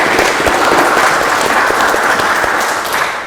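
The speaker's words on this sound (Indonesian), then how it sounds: "Sekali lagi aplaus untuk Dr." Steady, loud audience applause at a hospital talk show event in Banyuwangi, a full room of hands clapping continuously with no voices over it.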